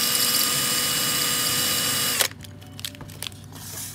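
A rotary tool bevels the edge of a handmade glass tobacco pipe with a dense, close, high grinding whine. It cuts off abruptly after two seconds, leaving scattered taps and handling noises.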